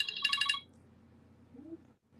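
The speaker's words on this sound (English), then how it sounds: "when an alarm goes off, that means check your phone and check your watch list on eBay" A phone alarm ringtone goes off in a short, bright burst of repeated electronic tones, then stops, leaving low background noise.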